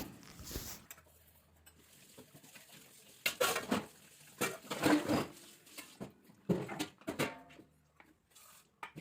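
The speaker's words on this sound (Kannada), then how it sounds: "ಇರೋ ಪಾತ್ರೆಗಳನ್ನ ಈಗ ನಾನು ತೊಳಿತಾ ಇದ್ದೀನಿ" Dishes and cutlery clatter and clink in irregular bursts, with scraping and knocking of metal pans close by; no talking.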